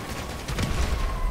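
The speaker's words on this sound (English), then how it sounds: "Oh, the cops are shooting me!" Police gunfire in a video game, a short quiet burst of rapid overlapping shots with a noisy, crackling texture.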